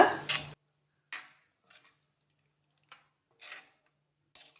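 A spoon stirs Manjali chicken biryani masala with ghee in a pot, giving a scrape at the start and then sparse, light clinks and soft scrapes separated by quiet gaps.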